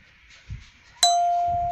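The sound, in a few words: doorbell ringing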